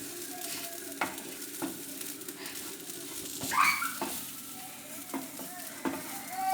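Grated coconut stirred and dry-roasted in a pan for a Malabar varutharacha chicken curry, giving a steady low sizzle with soft scraping strokes of the spoon recurring every second or so, close and moderately quiet, with no talk.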